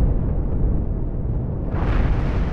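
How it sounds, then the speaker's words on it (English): Spaceship explosions in the space combat game Cosmoteer make a dense, continuous rumbling roar that brightens into a harsher burst near the end, loud and with no voices. "Oh, we've had some explosions in the front."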